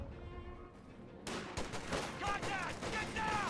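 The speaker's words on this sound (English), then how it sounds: "Here comes the Calliope rocket barrage." A Calliope rocket barrage in the Company of Heroes game rips through as a rapid volley of explosive bursts with whooshing streaks, under a commentator's voice.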